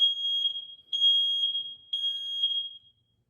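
A smoke alarm sounds during a test, giving three loud, piercing, high-pitched electronic beeps in a steady rhythm, each about a second long, before falling silent.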